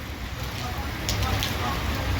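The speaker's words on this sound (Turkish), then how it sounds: "Şu an sadece yağmur ve rüzgar var." Summer rain falls outdoors with some wind, a steady soft hiss of drops and a low rumbling wash that swells slightly partway through, continuous and fairly faint.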